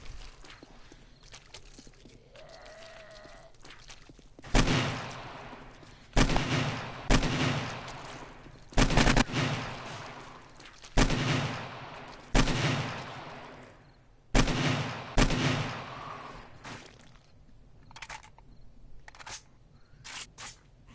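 Heavy gunfire in the zombie survival game 7 Days to Die, about ten loud booming single shots with ringing tails, spaced a second or two apart, after a quieter stretch of footsteps and ambience.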